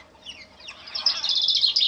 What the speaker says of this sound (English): really hear those birds